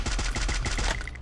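Rapid burst of gunfire from a 12-gauge shotgun in the mobile battle royale game Free Fire, several sharp, loud shots in quick succession over about a second, with no voices.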